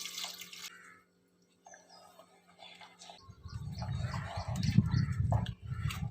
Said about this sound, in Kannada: 1 ಗ್ಲಾಸ್ ನೀರು ಹಾಕೊಳ್ಳಿ